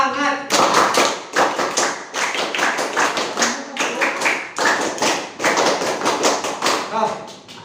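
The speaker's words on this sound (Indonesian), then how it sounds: "Tepuk semangat itu satu kali." Classroom of students doing a rhythmic spirit clap, sharp unison bursts in a patterned beat with brief pauses between groups, loud and close.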